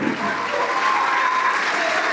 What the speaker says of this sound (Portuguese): Vamos aplaudir mais por cada vida que está chegando.